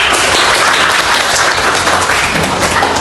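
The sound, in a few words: applause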